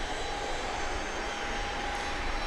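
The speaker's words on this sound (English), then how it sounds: "right in front of us, we've got an Embraer Praetor 600" An Embraer Praetor 600 business jet at Grand Cayman airport, its engine giving a steady distant whine and broad roar with a faint high tone, continuous and unchanging throughout, with no talk.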